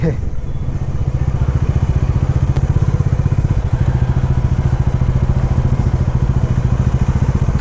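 Motorcycle on a long-distance ride from Kolkata toward the Kumbh Mela at Prayagraj, its engine giving a steady, loud, rumbling drone with wind buffeting throughout and someone talking over it.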